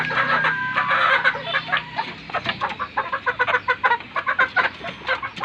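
Young Kelso Hatch gamefowl hens, about three months old, cluck in a coop in a rapid, rhythmic run of close, sharp clucks that grows more regular toward the end.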